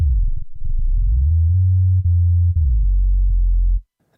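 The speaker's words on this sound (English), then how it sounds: "I'm adding my sub bass preset" Sub bass synth preset in Logic Pro for a dubstep track, a loud, pure low sine tone playing a short sequence of held notes with brief gaps and pitch slides, stopping abruptly into silence.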